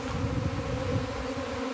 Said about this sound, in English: This is when bees are in their calmest state when they're swarming.